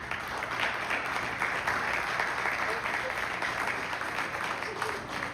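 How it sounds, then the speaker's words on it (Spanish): An audience at a formal presentation claps steadily in a dense, sustained wave of applause that holds evenly from start to finish. "Recibamos con un aplauso al licenciado Cástor Álvarez Ortiz"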